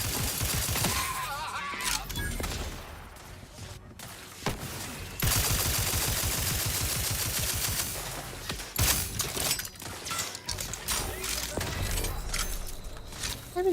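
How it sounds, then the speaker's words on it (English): Enemy gunfire in The Outer Worlds 2 crackles in dense, sustained bursts with sharp impacts and shattering, mixed with game effects and a voice talking over parts of the fight. "I don't see who the hell's shooting at me."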